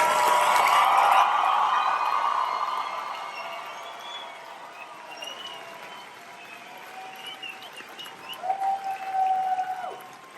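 Families and friends in the stands at an Air Force training squadron coin ceremony applaud loudly at first, then the clapping gradually thins out, with a few scattered whoops and a little crowd noise near the end.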